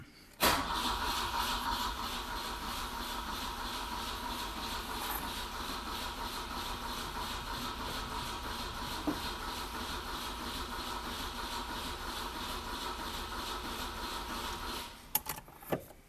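A Volvo Amazon Kombi with an M41 engine cranks and catches, then runs at a steady idle for about fifteen seconds. The start is sharp and close, and the engine stops abruptly at the end.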